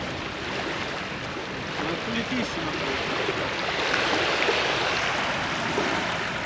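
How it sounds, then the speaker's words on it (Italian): Water of a lagoon beside a cycle path at Lio Piccolo in the Veneto, a steady soft wash and lapping heard close by, continuous and even throughout with no distinct splashes standing out. "Sentiamo come l'acqua."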